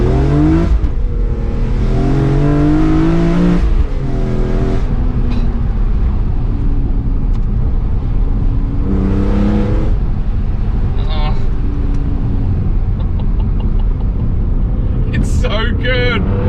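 A BMW E46 M3 CSL engine revs hard through a first gear pull, rising in pitch, dropping at the shift and climbing again, loud and heard from inside the car with a constant road roar, ending in brief chirps.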